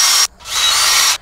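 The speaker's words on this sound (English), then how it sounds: "I'm going to put a couple pilot holes in real quick with my drill." Power drill boring pilot holes with a 3/32 inch bit for a doorbell install: two loud, close high-pitched whirring bursts, a short one then a longer one, separated by a brief pause.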